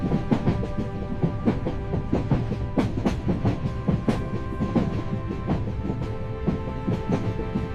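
Steady rumble of a Japanese sleeper train rolling on rails, with rhythmic clickety-clack beats from the wheels over track joints, continuous and close.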